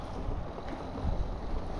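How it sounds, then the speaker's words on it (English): Steady, rumbling wind buffets the microphone outdoors by a field of dandelions, with low gusty roar and no other sounds, continuous and fairly loud. "It's starting to get windy out"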